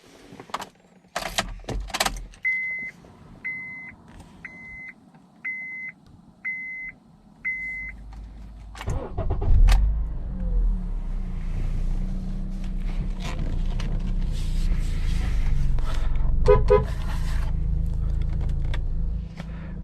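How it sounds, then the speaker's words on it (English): A 2011 Honda Accord LX with 164,000 miles starting up from inside the cabin: a series of six evenly spaced chime beeps, a few clicks and thumps, then the engine catches and settles into a steady low idle rumble, with no talking. "Today we're going to go for a POV ASMR style test drive."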